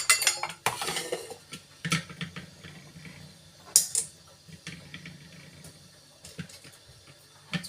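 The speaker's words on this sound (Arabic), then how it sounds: "وعندي عاوتاني هاد البصيله هذه راني غادي نشلضها" Onion being sliced on a cutting board in a home kitchen while cooking Moroccan harira, with sharp clicking knife taps and rustling at irregular intervals, fairly close and moderately quiet, no talk.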